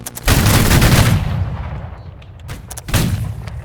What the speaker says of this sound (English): 21 gun salute to all the brave soldiers